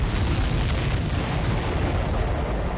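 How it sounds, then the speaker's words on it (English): A sustained explosion from an aerial combat game in Ace Combat 7, a dense broadband rumble and blast roar holding loud and steady throughout with no voices. "Did you see that explosion?"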